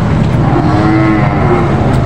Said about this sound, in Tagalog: Ito pala yung malaking kalabaw talaga.